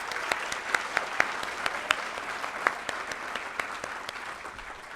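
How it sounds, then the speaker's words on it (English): Applause for Hall of Fame inductees fills a banquet hall, with steady dense clapping from a crowd and a few sharper claps standing out, carrying on throughout at moderate volume. "Let's give them another round of applause"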